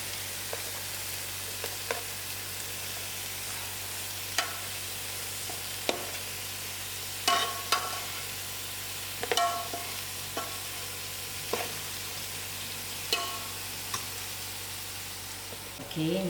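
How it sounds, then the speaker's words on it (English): Steady low sizzle of onions frying in oil for fish biryani, with occasional sharp clicks and scrapes of stirring throughout. "I'm going to actually top it with that oil that's frying the onions."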